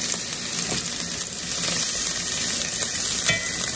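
Chicken for honey garlic chicken fries in a hot skillet, giving a loud, continuous sizzle with faint stirring scrapes and no talking.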